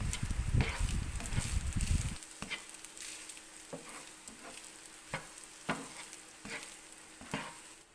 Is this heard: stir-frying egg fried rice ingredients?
yes